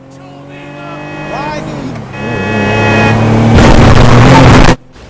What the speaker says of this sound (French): Je vais arrêter de parler pour que vous entendiez le moteur